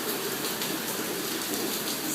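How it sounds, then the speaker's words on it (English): Heavy rain pours down at night, a dense steady hiss of drops on surfaces filling the short stretch without any speech. "It's a beautiful night, and it is pouring rain"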